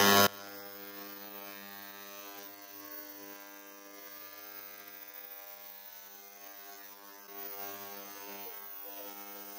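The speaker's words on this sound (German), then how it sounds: "So, und jetzt schalte ich das Ultraschall mal an." An ultrasonic cleaning bath hums and buzzes steadily with a Vespa piston inside. It starts with a loud click and carries a constant tonal drone, and no one speaks over it.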